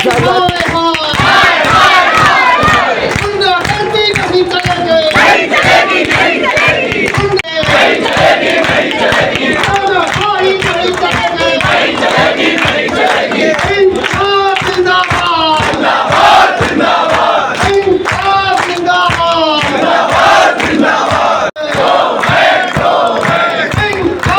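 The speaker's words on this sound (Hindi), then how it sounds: "सैकड़ों कर्मचारी कर रहे प्रदर्शन में भारी संख्या में बिजली कर्मचारी शक्ति भवन में मौजूद कर रहे निजीकरण का विरोध" Hundreds of electricity workers protest privatisation at Shakti Bhawan in Uttar Pradesh, a loud, dense crowd chanting and shouting slogans together in rhythmic bursts, with scattered clapping, continuous and close for the whole stretch.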